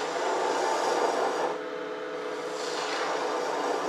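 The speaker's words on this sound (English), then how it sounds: "I'm going to come back here and just start reducing wood." A gouge cutting wood on a lathe, a steady, close rasping hiss of the tool reducing the spinning blank, continuous with a slight change in tone midway.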